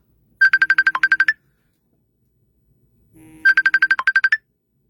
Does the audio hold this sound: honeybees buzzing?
no